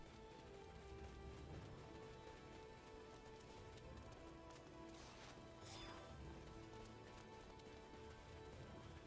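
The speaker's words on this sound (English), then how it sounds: "Now it's raining." Steady rain pours down in the video game Star Ocean Integrity and Faithlessness, a continuous dense hiss with no talk over it.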